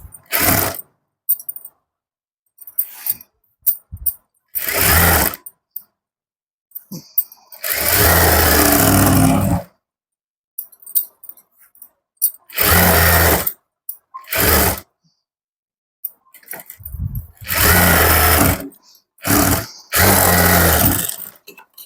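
A sewing machine stitches a blouse in repeated bursts of steady mechanical whirring, each run lasting one to two seconds, with longer pauses in between and quiet handling noises during the gaps.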